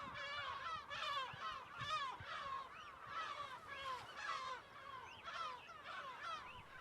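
Seagulls on Flat Holm island, perched around a derelict isolation hospital building, call in a dense overlapping chorus of harsh, wavering cries that carries on without pause at moderate loudness.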